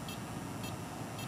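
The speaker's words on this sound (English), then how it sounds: "it's got a continuous beep now" A Rigol DS1054Z oscilloscope, frozen on start, gives short electronic beeps at regular intervals over a steady hum, faint and clipped.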